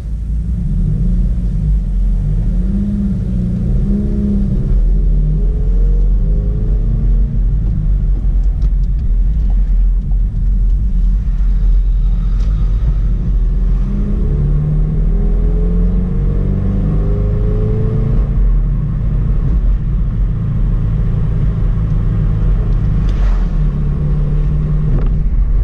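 Exhaust of a 2017 Subaru WRX with a Nameless catback and muffler delete and 4-inch tips, a loud, deep rumbling drone that rises and falls as the car accelerates through the gears, steady and close.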